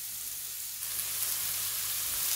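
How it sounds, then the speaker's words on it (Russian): Vegetables for a beef tongue soup frying in a pan, giving a steady broadband sizzle that runs unbroken and fairly loud through the whole moment, with no voices. "И пока у нас с вами здесь поджарка,"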